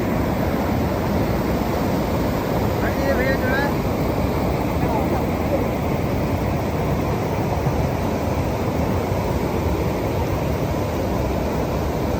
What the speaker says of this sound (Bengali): এইখান থেকে দেখুন জলটা নামছে, সাইড দিয়ে চলে যাচ্ছে।